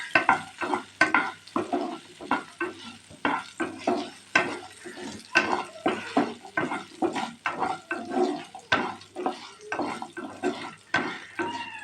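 Curry leaves and spices sauté over a low flame for a horse gram gravy, with a gentle sizzle under frequent, rhythmic spoon scrapes and taps against the pan, close and fairly quiet.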